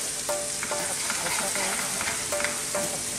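Chicken and aubergine pieces brown in olive oil over very high heat, giving a steady, close sizzle broken by quick stirring scrapes.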